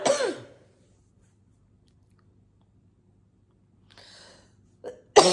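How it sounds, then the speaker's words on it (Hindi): A few isolated coughs, close and abrupt, separated by long stretches of near silence. "खांसी बहुत आ रही"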